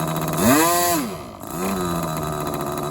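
A model glow engine revs up smoothly through a throttle transition, then drops back and settles into a steady, buzzing idle, close and loud, with no one talking.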